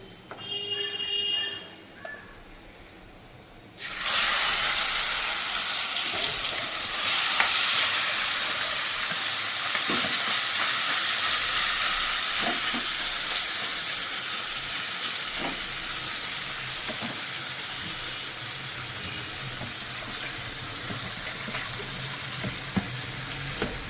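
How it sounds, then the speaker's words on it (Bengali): Kachki fish dropped into hot oil in a wok, bursting into a loud, steady sizzle that holds evenly for many seconds, with occasional crackles and pops over the continuous hiss. "এবার আমি কড়াতে দিয়ে দেবো। তেলটাও গরম হয়ে গেছে।"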